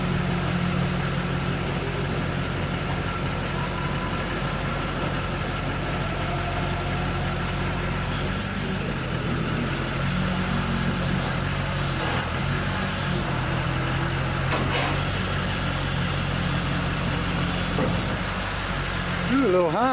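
A 2003 Duramax diesel rollback truck runs at a steady, close idle while its bed rolls forward, a constant low rumble with faint clunks and vibration.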